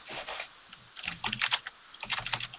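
Typing on a computer keyboard, bursts of quick, soft key clicks in uneven runs with short pauses between, close and fairly quiet, with no talking.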